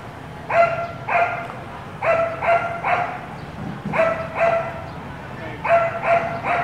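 Several dogs bark in repeated clusters of two or three barks, moderately close, with short pauses between bursts, in the Philippines.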